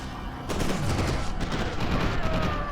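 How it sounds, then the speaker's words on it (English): Explosions and rapid gunfire in the shooter game F.E.A.R. 2: Project Origin, a dense sustained barrage of blasts and crackling bursts at moderate volume with no talk. "Why is everything exploding?"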